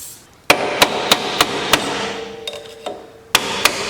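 Sharp metallic hammer strikes on a screwdriver against S15 Silvia Spec R coilovers, about eight close, loud blows in an uneven rhythm with brief ringing, alone without talk.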